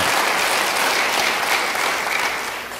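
A church congregation breaks into sustained, dense applause, many hands clapping together at full strength before easing slightly toward the end, with no speech over it.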